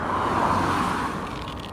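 A car passes on a road where sheep are being walked along the curb, a broad steady whoosh of tyres and engine that tapers slightly as it goes by.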